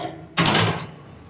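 A short scraping metallic slide of a metal ash pan under a Lone Star Grillz El Fuego Trio charcoal grill, a burst of rough noise lasting under half a second before fading, over a low background hum.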